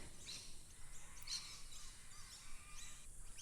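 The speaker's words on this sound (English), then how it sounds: "that's why you can hear a lot of bird sounds" Birds chirp faintly in the distance in a quiet outdoor setting, scattered short calls over a soft, steady ambient hiss.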